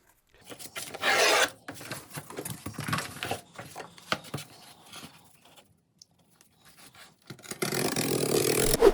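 Regular old-fashioned cardboard is trimmed with rough rasping strokes, close and fairly quiet, in irregular bursts with short pauses, ending in a longer continuous scrape.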